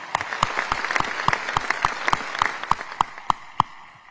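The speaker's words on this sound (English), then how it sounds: "So let's give them a huge round of applause and say thank you for their wonderful support." Audience applause at a county government's State of the County address in a convention center, sustained and fairly loud with sharp individual claps standing out at a steady rhythm and fading toward the end.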